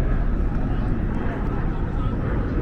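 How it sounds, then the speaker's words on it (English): A low, steady rumble of military aircraft engines passing overhead near Coney Island, Brooklyn, broad and droning, with people talking over it. "The army airplanes."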